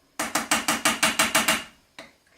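Cooked white rice is smashed firmly into a mold for a curry chicken plate. Eight quick, evenly spaced hard strikes land in a steady rhythm, followed by a short pause and one final hit, all close and clear with no talking.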